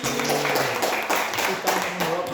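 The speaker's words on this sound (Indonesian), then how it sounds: "tepuk tangan untuk Heldi" Students in a micro-teaching class clap for a classmate, a short patter of hand claps under overlapping voices.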